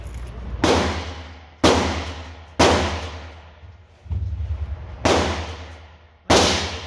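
Six loud, sharp gunshots at an outdoor shooting range ring out about a second apart, each followed by a fading echo, with a steady low engine-like drone underneath.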